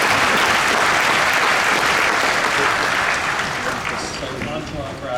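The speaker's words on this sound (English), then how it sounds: "so a round of applause" Audience applause at a university pharmacy graduation commencement in Chicago, honoring Preceptors of the Year award recipients: dense, steady clapping filling the hall, easing slightly toward the end.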